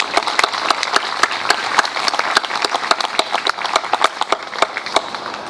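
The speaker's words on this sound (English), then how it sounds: "let's have a big round of applause for them" Outdoor audience applause at a veterans' wall of honor ceremony, sparse crisp individual claps with distinct sharp hits over a lighter bed of clapping, moderately close and continuing for several seconds.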